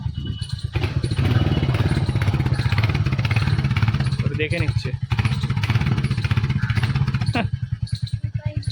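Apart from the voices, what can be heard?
motorcycle engine and exhaust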